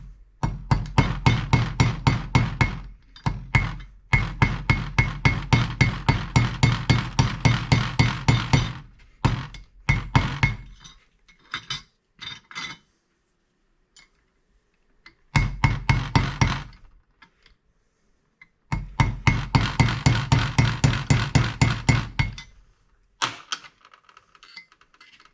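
A dowel pin hammered into a part on a Tesla-powered 1940 Chevy: long runs of rapid, sharp metallic strikes, loud and close, broken by pauses and a few single taps.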